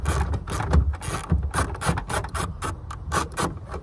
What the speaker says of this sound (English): you're gonna use the 10mm socket with the ratchet